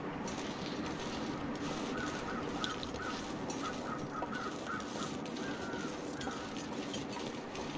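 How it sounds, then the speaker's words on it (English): Crows caw repeatedly in a series of short calls within The Long Dark, heard over a steady wash of wind-like ambient noise. "What are those birds for?"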